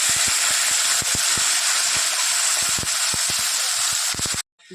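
Fish dropped into a hot pan of oil sizzle loudly with a bright continuous hiss, punctuated by sharp spatters and pops, until it cuts off abruptly near the end.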